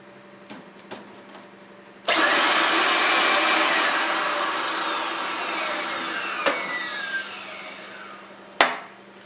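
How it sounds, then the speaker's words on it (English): A Diamond Jet 1200 dust containment system motor switches on and runs with a loud, steady broadband whir for several seconds, gradually easing, before cutting off with a sharp thump near the end. "Now we unplug the power and test the next motor."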